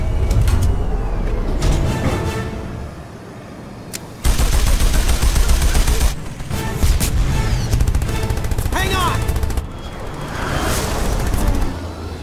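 A mounted gun fires from a vehicle in the Jak and Daxter: The Lost Frontier game, with loud rapid bursts of shots that come in waves over a dense, booming mix of game sound.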